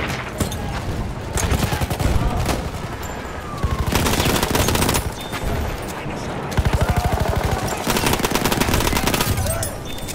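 Automatic machine-gun fire from a Battlefield 1 multiplayer battle rattles in long, loud, rapid bursts separated by brief pauses, with dense overlapping gunfire throughout.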